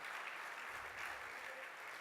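A church congregation applauds during a Spanish-language sermon, a steady wash of clapping from many hands at moderate, fairly quiet level, continuous for the whole stretch with no voices over it.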